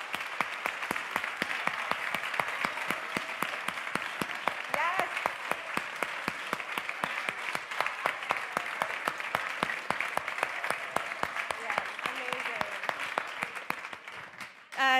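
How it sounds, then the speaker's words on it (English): A crowd applauds scientists at an evening science event, with dense, sustained clapping at an even level for about fourteen seconds, ending with a brief voice over the last claps. "Let's give everyone here some applause"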